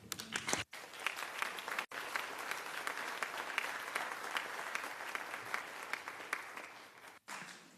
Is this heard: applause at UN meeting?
yes